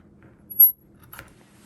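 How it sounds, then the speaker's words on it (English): Squeaky scissors trim the corners of a sewn fabric envelope pillow cover, giving one sharp high squeak followed by a short snipping cut in an otherwise quiet room. "Sorry for my squeaky scissors."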